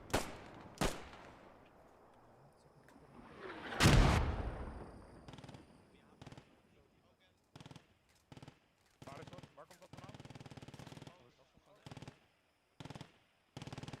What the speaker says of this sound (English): Now that is some accurate mortars